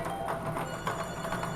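A telephone rings repeatedly with an incoming caller to a televised bingo broadcast, its bell tones steady and moderately loud beneath a faint background hum.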